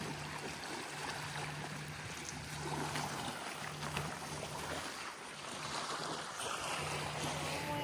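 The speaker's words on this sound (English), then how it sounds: "It's been the longest dinghy ride we've ever taken at one time, 33 minutes." An inflatable dinghy with an outboard motor heads to shore over choppy sea. A steady engine hum and broad water and wind wash run continuously throughout, fairly close and even, with no talk.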